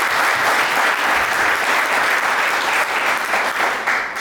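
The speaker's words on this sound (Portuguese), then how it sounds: "Por favor, uma salva de palmas." Audience applause at an open banking panel event, a steady dense wash of clapping that holds for about four seconds and fades slightly at the end.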